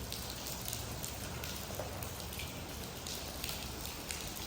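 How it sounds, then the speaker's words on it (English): Rainwater dripping and pattering inside a large banquet hall just after a rain, a steady broadband patter of drops hitting surfaces that runs throughout at a fairly quiet, even level. "so now I'm going to get dripped on in here"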